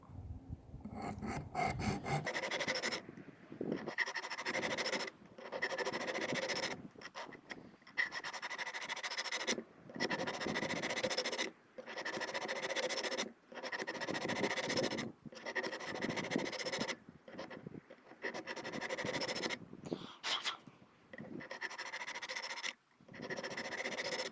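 Nitro-V steel knife blade stroked across the abrasive of a Work Sharp Precision Adjust sharpener, a dry raspy scraping repeated in even back-and-forth strokes about one to two seconds long, close and clear with short gaps between.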